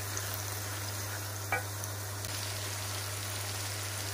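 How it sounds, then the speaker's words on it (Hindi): Ground coriander, salt and other spices for pumpkin chana dal frying over a low flame, giving a quiet, even sizzle with one brief scrape of a spoon partway through, under a constant low hum. "मसाले को हमने 5 मिनट के लिए स्लो आग पे भूनना है"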